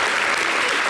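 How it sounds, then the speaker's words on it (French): An audience applauds a singer at a televised show in Guinea, a dense, loud burst of clapping that fills the whole short moment. "Merci d'applaudir la star."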